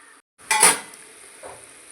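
A metal lid lifts off a pot of simmering garlic kara kuzhambu with one short, close clank and rattle, followed by a faint second clink.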